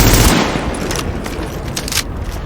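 Automatic weapon fire in The Division: a dense, rapid burst of shots opens loudly, then trails into a run of separate cracking shots against a noisy combat backdrop, with no voices.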